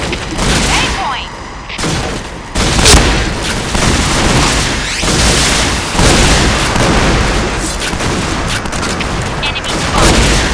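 Shotgun gunfire in the video game Point Blank, loud repeated blasts and bursts over a dense, constant game soundscape, close and continuous throughout.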